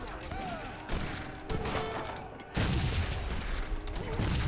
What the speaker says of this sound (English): Rifle grenades firing away.